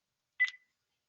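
One short electronic keypad beep from a cordless phone being registered to its base rings out clearly against silence.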